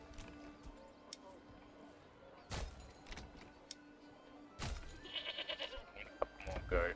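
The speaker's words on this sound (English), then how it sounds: "Need a couple more goat." Goats bleat in the medieval city-building video game Manor Lords, a few short bleats amid ambient game sounds, a couple of sharp clatters and some scattered noise.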